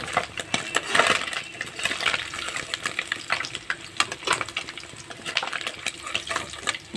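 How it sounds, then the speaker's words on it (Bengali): Small puti fish fry in hot oil, a crackling sizzle with sharp pops and clinks scattered irregularly over a steady bubbling hiss, close and fairly loud, no voices. "পুঁটি মাছ ভাজা"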